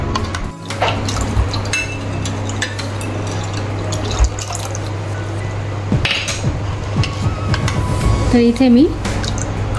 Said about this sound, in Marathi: 5 चमचे पुदिन्याचा रस घातला आहे